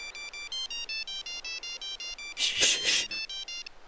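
A mobile phone rings with an incoming call, its electronic ringtone repeating in short, evenly spaced tonal bursts, moderately quiet, briefly overlapped by a louder noisy burst near the end.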